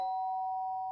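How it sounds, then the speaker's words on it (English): A doorbell chime in the Danganronpa video game sounds once as a clean, sustained electronic tone that slowly fades, alone against silence. "The sharp sound of the doorbell pierced by sleepy haze and pulled me back to the real world."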